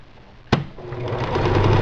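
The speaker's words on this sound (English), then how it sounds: "I'm going to sew up to this line and then back" A sewing machine stitching a hem on a tissue-box cover, starting with a sharp click and then running at a steady, building whir up close.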